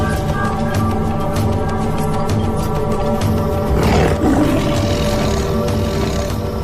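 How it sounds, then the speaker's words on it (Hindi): A lion roars loud and close, a deep sustained growling roar that swells to a peak midway and rumbles on, heard alone without talk. "शेर की दहाड़ 8 किलोमीटर दूर तक सुनी जा सकती है।"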